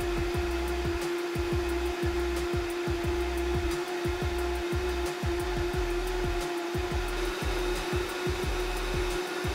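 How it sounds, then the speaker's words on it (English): A Vitamix E310 Explorian blender blends a kale smoothie, a loud steady motor whine with a rhythmic chopping pulse running throughout, close and continuous. "In only a minute, the blender produced an impeccable smoothie, turning even the tough kale into a velvety texture"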